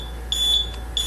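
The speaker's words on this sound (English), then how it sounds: "Once that sensor is released, the alarm will go off." A Scorpion retail security sensor alarm, rated at 110 decibels, sounds after its cable is cut, with two sharp, high-pitched electronic beeps separated by a short gap over a low steady hum.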